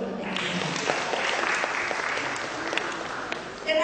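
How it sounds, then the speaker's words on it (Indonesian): Children clap together in a room at an event where young health cadets from an elementary school meet the Jakarta vice governor, steady applause lasting a few seconds with a faint voice near the end. "Silakan, kita tepuk tangan dulu."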